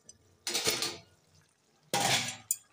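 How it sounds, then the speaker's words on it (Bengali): A metal lid comes off a pot of mutton kosha simmering on low gas, giving two broad bursts of clatter and hiss about a second and a half apart, then a short clink, close and fairly quiet with no talk. "ঢাকাটা উঠিয়ে দিচ্ছি"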